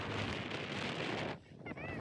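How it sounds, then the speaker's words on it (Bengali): Cold wind gusts across the cliff walk on snowy Mount Titlis, a steady broadband roar buffeting the microphone that drops briefly before surging back, with faint voices behind. "অদ্ভুত একটা ঠান্ডা বাতাস বইছে চারিদিকে"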